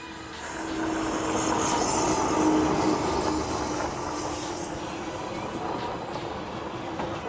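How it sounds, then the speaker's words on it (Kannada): A train rolls past near Makalidurga hill, a loud, close rumble of wheels and cars that swells within the first second and holds steady as it goes by. "ಇವಾಗ ಬೆಟ್ಟ ಇಳಿದಾದ್ಮೇಲೂ ಟ್ರೈನ್ ಬರ್ತಾಯಿದೆ"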